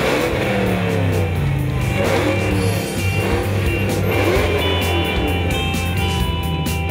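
A high-performance car engine rated at over 700 horsepower runs loud and close throughout, a steady deep roar with rising and falling revs and no break.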